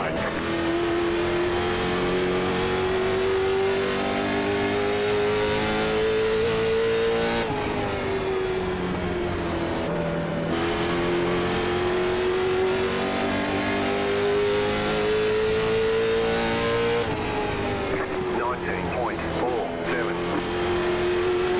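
Late model stock race cars at North Wilkesboro in the iRacing simulator, a loud continuous engine drone rising and dropping in pitch through gear changes and corners, with commentators talking over it.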